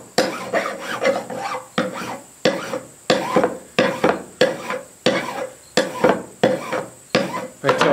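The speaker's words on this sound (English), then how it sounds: "just grind these down with a file" A steel file rasps across brass handle pins on a handmade knife, with steady rhythmic strokes about twice per second. The filing is close and clear, with no talking.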